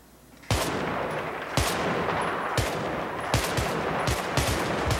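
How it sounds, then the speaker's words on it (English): Battlefield 3 video game gunfire: loud sharp shots and short bursts crack out repeatedly over a steady background, with no talking. "Why did I shoot at the garage?"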